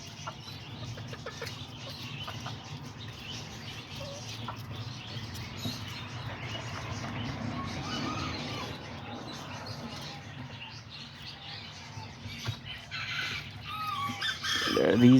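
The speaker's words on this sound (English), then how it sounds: "And then here's the chickens." Serama and Azteca chickens cluck and murmur softly in a pen, faint and scattered against a low background hum, with a sharper sound right at the end.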